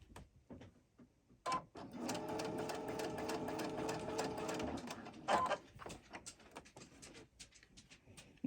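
Sewing machine chain stitching fabric pieces, rapid mechanical whirring in several bursts with short pauses between, punctuated by clicks and taps of handling, close and fairly quiet.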